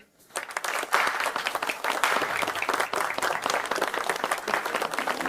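A crowd breaks into applause, many hands clapping steadily and fairly close, continuing without pause.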